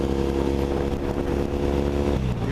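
A Triumph Thruxton 900 cafe racer fitted with a MotoVas British Customs slip-on exhaust rumbles steadily while being ridden, its engine note held even and close for a couple of seconds before the pitch shifts slightly near the end.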